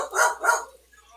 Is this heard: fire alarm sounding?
no